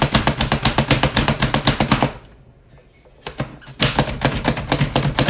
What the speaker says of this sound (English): happen to think chopping and cutting and dicing and all that is super fun.